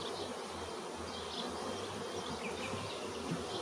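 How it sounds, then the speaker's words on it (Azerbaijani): Honeybees buzz around open hive frames, a continuous close droning hum with many overlapping wingbeats and no voices. "burada bal toplayıblar arılar."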